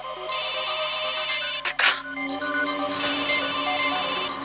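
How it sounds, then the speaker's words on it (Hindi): A melodic phone ringtone plays continuously, loud and near, briefly interrupted by a short spoken word in the middle. "घंटी तो बज रही है"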